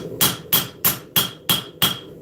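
A hammer strikes hot steel while forging a knife, six sharp metallic blows in a steady rhythm about a third of a second apart, close and clear with a ringing tone after each hit.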